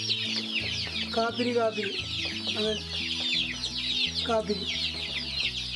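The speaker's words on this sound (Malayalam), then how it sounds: "കുറേ കോഴിക്കുട്ടി, ഒരു വലിയ കോഴി, ചെറിയ കോഴിക്കുട്ടി" A big hen and many chicks cluck and cheep in a farmyard, with steady busy peeping throughout and a voice chanting a short repeated call over them.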